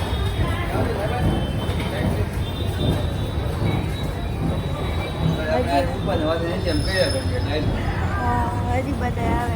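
A passenger train rolls along the rails on a family trip to Goa, a steady rumble with wheel squeals and clatter heard from inside the carriage, with people talking throughout.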